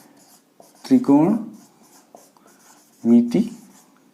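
Pen or marker strokes on a board during a Hindi trigonometry lesson, soft scratchy bursts between two spoken phrases from the teacher.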